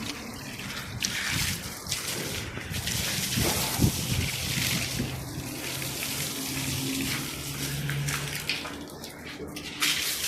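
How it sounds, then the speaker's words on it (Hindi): Water runs steadily from a hose onto an outdoor floor being washed, giving a continuous splashing rush close by with occasional clatters, in a Saudi Arabian setting. "अभी पानी चलाते हैं और इसको पूरे को क्लीन करते हैं"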